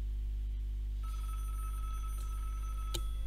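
Telephone ringing in the video game Broken Sword Director's Cut, a steady electronic ring tone with a brief sharper burst near the end, heard over a constant low hum with no talking.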